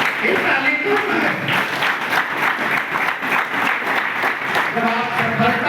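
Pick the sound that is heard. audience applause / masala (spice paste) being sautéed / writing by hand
audience applause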